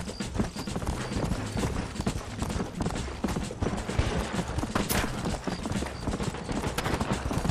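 Horse hooves pound steadily at a gallop in the Red Dead Redemption video game, a loud, dense rhythmic clatter with mechanical rattles layered over it.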